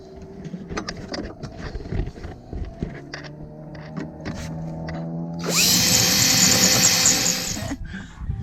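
A power drill bores through a metal swim platform on a sailing boat, starting with short intermittent bursts and then settling into a loud, sustained high whine near the end.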